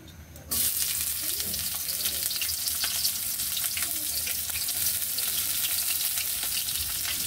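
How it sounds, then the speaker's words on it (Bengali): Onions dropped into hot oil in a wok for vegetable noodles set off a sudden loud sizzle that stays as a dense, steady frying hiss, close and continuous after a brief quiet start. "এবার পেঁয়াজগুলোকে ভেজে নিব।"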